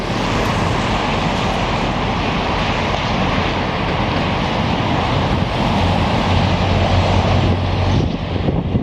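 Strong wind buffets a microphone outdoors beside railway tracks in Montreal in March, a loud, continuous roaring rumble with no letup across the whole stretch.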